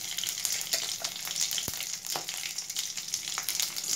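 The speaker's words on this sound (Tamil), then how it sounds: "எண்ணெய் காஞ்சிருச்சு, கடுகு போடுறேன், கருவேப்பிலை போடுறேன், பச்சை மிளகாய் போடுறேன்," Mustard seeds, curry leaves and green chilies sputter in hot oil, a dense, continuous crackling sizzle with sharp pops scattered throughout, close and alone.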